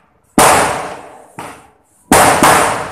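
Firecrackers burst in a Diwali celebration with three sharp, very loud bangs close by, the first and last ringing longest, and the middle one softer.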